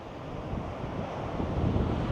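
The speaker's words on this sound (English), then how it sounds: "And it's so windy." Strong wind in Scotland roars steadily across the microphone, a dense rushing buffet that swells slightly louder toward the end.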